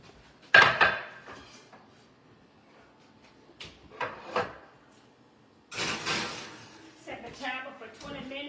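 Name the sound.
dish being put into the oven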